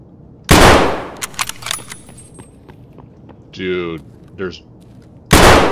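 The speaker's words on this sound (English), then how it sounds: "I shot him point blank in the face and it missed." Gunfire in an Escape from Tarkov–style shooter on the Factory map: two loud broadband blasts bracket the clip, with scattered clicks and clatter between them and brief speech in the middle.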